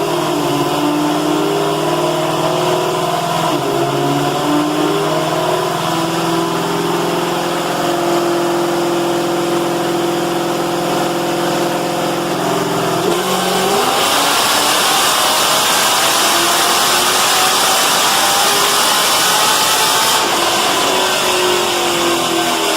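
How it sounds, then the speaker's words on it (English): Pontiac GTO engine on a dyno during its most powerful pull, a loud, close drone that climbs steadily in pitch, shifts sharply partway through, then roars harder and higher before easing near the end. "show you the most powerful run of the night, show you just how much power we squeezed out of the GTO"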